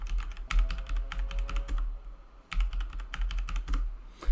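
A password typed on a computer keyboard, two close, brisk bursts of crisp key clicks separated by a short pause, over a low hum with nobody speaking.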